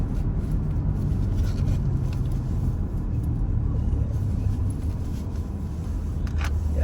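Steady low road rumble inside a moving car on a city street, a continuous drone filling the cabin with no talk over it.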